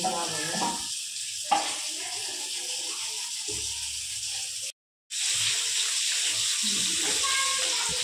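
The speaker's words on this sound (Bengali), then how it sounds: "ঝোলের মধ্যে ইলিশ মাছগুলোকে দিয়ে তারপরে একটু হালকা হাতে নেড়ে নেব" Hilsa fish curry simmering on a high gas flame while being gently stirred, giving a steady bubbling sizzle with a few light scrapes and one short cut to silence partway through.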